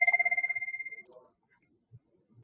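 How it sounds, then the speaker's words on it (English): A telephone rings with an incoming call, a fast pulsing electronic two-tone trill that fades after about a second, followed by faint handling noises and near silence. "I just have to take a phone call"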